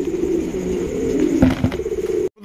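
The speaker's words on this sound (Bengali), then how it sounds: "এগুলো কিন্তু আপনার হাই ফ্লাইং গিরিবাজ কবুতর" Giribaz high-flying pigeons at a bird market coo in low, throaty rolls close by, several overlapping calls with a brief flutter partway through and no speech.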